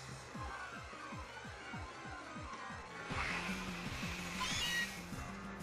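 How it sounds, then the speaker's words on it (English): A Meowth cry plays in the Pokémon Sun video game as a rapid series of short, repeated meow-like chirps over quiet in-game background music, with no talking. "Ooh, a Meowth! That's a different one."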